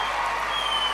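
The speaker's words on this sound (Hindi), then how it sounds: "आप लोग ताली बजाते रहो, जब तक इनका सम्मान होगा ताली बजना बंद नहीं होना चाहिए" Audience applause at an honouring ceremony, steady dense clapping throughout a brief moment with no voices over it.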